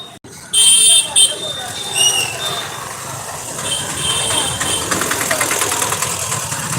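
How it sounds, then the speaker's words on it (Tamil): Heavy road traffic on Kamaraj Road gives a busy, continuous din of idling and passing engines with occasional horn-like tones, close and fairly loud, and a voice speaks over it. "ஸோ ரொம்ப டிராஃபிக்காக இருக்குது"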